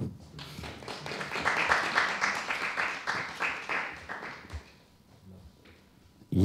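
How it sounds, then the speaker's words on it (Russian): An audience applauds after a film screening at a meeting with a music video director, a dense burst of clapping that swells, then fades out into near quiet. "Аплодисменты."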